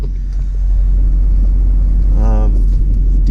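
A 2005 GMC Sierra 3500 diesel one-ton dually pickup driving with its trailer, a steady loud low engine rumble close by throughout, with a brief rising whine partway through.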